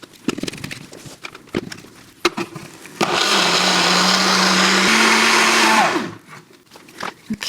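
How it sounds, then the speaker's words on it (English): A blender whirs loudly for about three seconds, pureeing a keto beef noodle mixture with salt, its motor pitch stepping up midway before cutting off, surrounded by scattered knocks and clatter before and after. "you really want to blend this as fine as you can"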